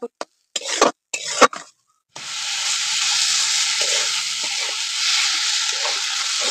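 Washed red lentils sautéing in hot oil in a pan for a Bengali-style patol dish: a few clanks and stirring knocks, then a steady, loud sizzle that fills the rest of the clip.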